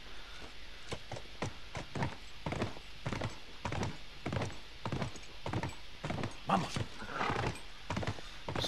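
A horse in the video game The Last of Us walks with steady, evenly spaced clip-clop hoofbeats at close range, with a brief snort or whinny partway through.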